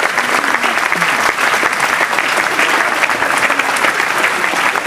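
Loud, sustained clapping from a crowd at a youth meeting in Mahuadanr, Jharkhand, a thick continuous roar of many hands with no break, heard alone.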